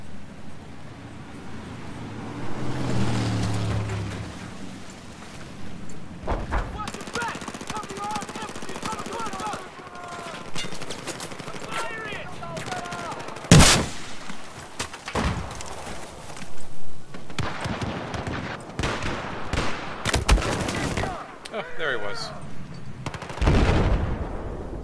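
In a busy Battlefield 4 online match, gunfire crackles in scattered bursts and single sharp shots, some near and some distant, alongside occasional heavier blasts, with a player talking over the action.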